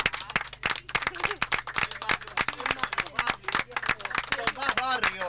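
Dense, steady applause from a live audience for a musician at a concert, crackling close and loud with a few whoops and voices mixed in.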